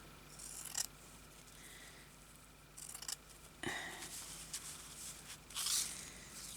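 Scissors cut fabric material for a crazy patchwork journal pocket, a few quiet close snips and rustles spread out between pauses, with no talk.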